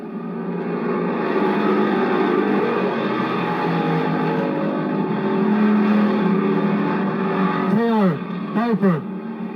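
Race cars roar around the track during a qualifying heat at Lorain County Speedway in 2001. A sustained engine drone is followed near the end by two cars sweeping closely past in quick succession.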